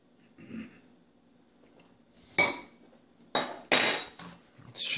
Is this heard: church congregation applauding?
no